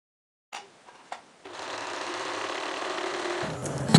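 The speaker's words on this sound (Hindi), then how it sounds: "मार्किंग लाइन पर मशीन के 5 नंबर टाका पर इसे स्टिच करें" A sewing machine stitching a gather line on a kurti, starting with a few short clicks before settling into a steady, continuous whir that builds to a louder finish, close by and without talking.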